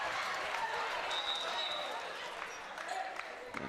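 Kellenberg fans cheer and clap in a high school basketball gym, a steady crowd roar with squeaks and bounces beneath an announcer's play-by-play.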